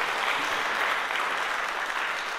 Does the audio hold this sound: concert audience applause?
yes